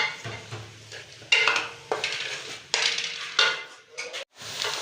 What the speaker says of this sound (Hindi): अब हमने चॉप किए हुए 2 अदद प्याज ले लेने हैं, तो इन्हें अच्छी तरह फ्राई कर लेना है।